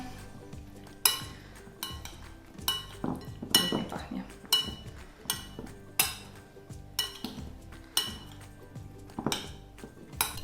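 Greek-style kaszotto with tomatoes, olives, feta and cucumber salad is stirred in a pot, a spoon clinking against the sides in a steady rhythm of sharp, close knocks, with faint talk underneath.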